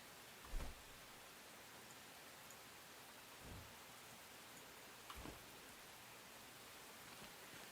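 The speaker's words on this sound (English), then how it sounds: "The rain is so peaceful too." Steady rain in Enshrouded, a soft even hiss of falling rain with a few faint low thuds, quiet and continuous with no speech.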